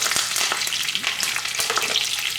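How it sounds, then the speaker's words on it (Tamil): Small onions frying in a pan for squid thokku make a loud, dense, close-up hiss and crackle that carries on without a break. "ஒரு 2 மினிட்ஸ் ஃப்ரை பண்ணி ஆனியன் நல்லா ஃப்ரை ஆகிடுச்சுங்க"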